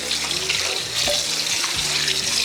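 Tap water pours steadily into a sink while a stainless steel pet water fountain bowl is rinsed, a continuous close splashing hiss with small shifts as the bowl moves under the stream.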